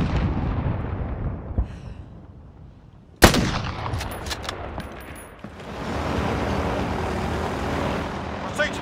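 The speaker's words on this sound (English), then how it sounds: "Taking fire over here." Video game gunfire erupts in a sudden loud burst of crackling shots, followed by scattered reports over a steady rumbling din, with voices audible in the background.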